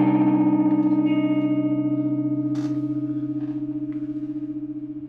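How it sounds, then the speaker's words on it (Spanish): An electric guitar played through an overdrive effect sustains a chord of thick, slightly gritty tones that fade slowly under a gentle wavering pulse, with a brief scratchy pick noise near the middle. "Y este es con efecto"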